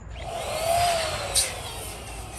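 A hand or electric pump inflates two 5-inch latex balloons at once with a steady, close rushing airflow. The air hisses evenly throughout, with a brief squeak partway through and no talking.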